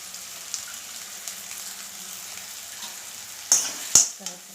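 Curry leaves and green chillies drop into hot oil in a pan for bitter gourd fry, a sudden bright sizzle and spatter near the end over a faint steady background hiss.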